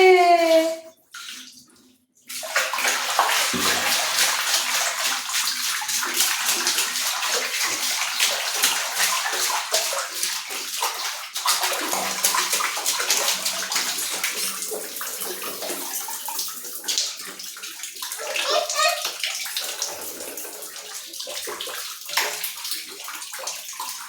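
A child bathes in a tub while water pours and splashes continuously, loud and close, with sloshing and dripping after a brief opening of voices and a pause.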